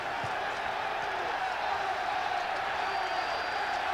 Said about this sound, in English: Crowd is cheering for Chuck Webb to get back in there.